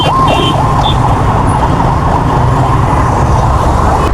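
An ambulance siren wails on a Dhaka street during a run-in with a motorbike, loud and close over steady traffic noise, with no one talking.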